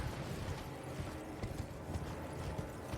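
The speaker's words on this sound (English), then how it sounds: "Oh yeah, we've got a horse." Steady clip-clop of horse hooves trotting at an even rhythm in Elden Ring, fairly faint under a dense background rumble.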